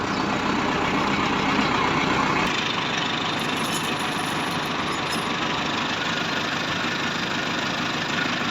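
A Massey Ferguson 375 tractor stuck in soft rain-soaked mud idles with a steady, close mid-pitched engine drone that holds unchanged throughout.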